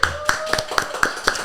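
An audience claps in a quick, regular rhythm, about four claps a second, close and fairly loud for just over a second. Faint talk runs underneath.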